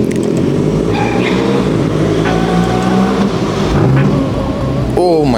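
Ferrari Portofino convertible engine fires up and revs, a loud broadband rumble with rising harmonic sweeps near the end, heard up close alongside voices talking.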